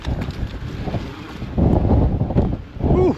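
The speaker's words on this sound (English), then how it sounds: "Ooh, windy." Wind buffeting a microphone on a mountain bike trail, rumbling gusts that swell and fade in bursts, loud and close, with no talking.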